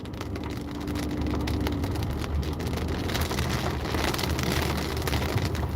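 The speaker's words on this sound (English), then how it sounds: "Now it's raining." Steady rain drumming on a car during a drive on a Florida road trip near St. Petersburg, a constant dense patter over low road rumble with no talking.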